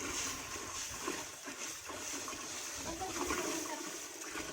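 A full pitcher of water is poured into a cooking pot, a steady rushing, splashing wash of sound that runs unbroken for several seconds at moderate volume.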